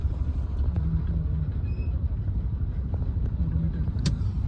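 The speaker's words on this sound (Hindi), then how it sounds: "गाड़ी है स्टार्ट, एसी है ऑन और कार चल रही है सीएनजी पे।" A car idles on CNG with its air conditioning running while stuck in a traffic jam, giving a steady low engine rumble that stays close and even throughout, with no talking.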